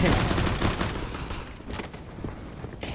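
Gunfire in CS:GO, a dense burst of rapid shots at the start that thins into scattered, fainter reports, with game noise and some footsteps underneath.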